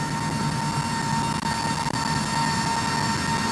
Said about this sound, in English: the Flexispot E7, you still get the motor noise,